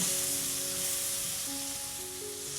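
Vegetables and spices frying in a pan for spiced potato, carrot and pea rice, a soft steady sizzle, close and fairly quiet, with faint tonal hum in the background and no talk.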